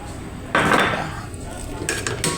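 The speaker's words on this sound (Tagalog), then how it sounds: "Igisa natin lahat ng mga ingredients." Ingredients going into oil in a pan for sautéing, with a sudden close rush of sizzle and clatter, then softer frying and a few sharp clinks of metal utensils toward the end.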